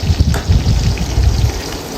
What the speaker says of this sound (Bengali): এই তেলের মধ্যে কিছুটা পেঁয়াজ কুচি দিয়ে দিচ্ছি